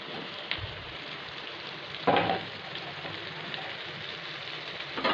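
Chopped bottle gourd fries in oil with spice tempering, a steady soft sizzle broken by a louder splash of hissing as pieces are stirred, with a few scraping knocks near the end.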